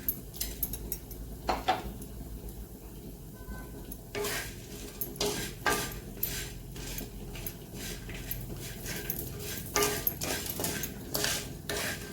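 Ridge gourd with coconut stir-roasted on an iron tava, a spatula scraping and clinking against the metal in irregular bursts over a faint sizzle, with quiet pauses between strokes.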